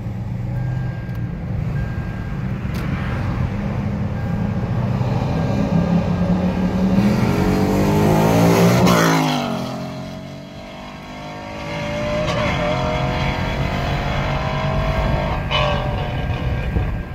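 A 2018 Ford Mustang S550 with a Coyote 5.0 V8, manual transmission, resonator and cat delete on stock exhaust, rips loudly as it accelerates and revs close by, swells to a peak, briefly drops, then roars again.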